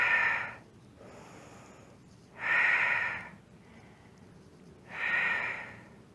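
Three loud, breathy exhales during a Pilates exercise, evenly spaced with quiet gaps between them, close to the microphone and with no speech.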